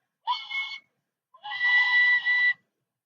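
A person whistles a tune in two clear phrases, a short opening note followed by a longer sustained one, loud and close with silence around them.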